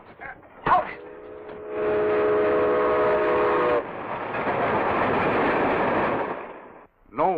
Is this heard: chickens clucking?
no